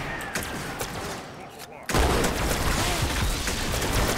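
Gunfire in the Halo 2 video game, bursts of rapid shots and impacts that turn into a dense, continuous barrage after a brief quieter stretch, loud and close.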